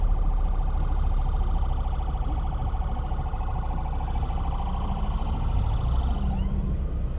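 An ambulance siren wails continuously, fairly loud and steady, over the rumble of traffic, heard from inside a car with no talking.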